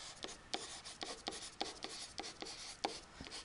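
Marker or chalk strokes on a classroom board, writing out an if-then conditional statement, heard as a quick series of scratchy taps and rubs in an uneven rhythm, close and fairly quiet, with no voice over them.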